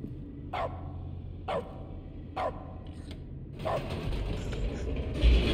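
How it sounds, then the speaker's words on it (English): Dog barks from the video game The Stanley Parable, a dog character barking in short sharp bursts, three evenly spaced single barks followed by a louder, busier stretch of barking and game noise. "When I press the button, we bark."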